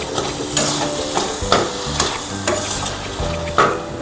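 Ash gourd curry cooked with fish oil and ghee being stirred in a pan, a close frying sizzle punctuated by rhythmic scraping strokes of a spoon about every half second.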